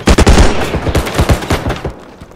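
Quick volley of loud gunshots in the Bodycam realistic shooter game, a dense rapid string of close cracks that thins into a few spaced shots before fading.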